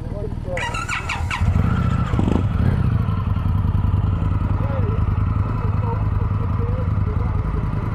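A motorcycle engine cranks, catches and settles into a loud, steady rumbling idle close by, with people talking over it at the start, during a ride in Patagonia.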